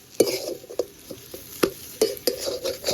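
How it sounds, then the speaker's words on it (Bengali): A spoon stirs potato filling with chopped green chilli and coriander in a pan, sharp metallic scrapes and taps at an irregular quick rhythm, close and clear over a faint background sizzle. "কাঁচা লঙ্কা কুচি আর ধনে পাতাটা দিয়ে ভালো করে একটু মিশিয়ে নামিয়ে নেব।"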